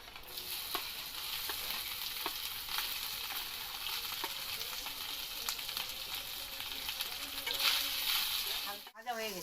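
Peanuts and chopped coconut fry in hot oil with fennel seeds, a steady bright sizzle marked by regular spoon taps and stirring, ending in a brief clatter.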